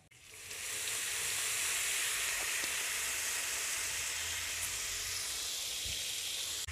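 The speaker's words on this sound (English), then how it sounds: "Now add in 1 tablespoon of soy sauce." Soy sauce added to a hot pan for dan dan noodle samosa filling, bursting into a loud, steady hiss of sizzling that holds evenly after a brief start, close up with no talking.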